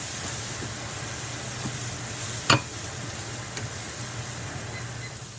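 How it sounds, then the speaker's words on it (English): Scallions, onions and garlic sauteing in a pot give a soft, steady sizzle and hiss throughout, with one sharp utensil clack partway through and no talking. "add my scallions, some onions, some garlic into my pot and saute this up for a couple of minutes"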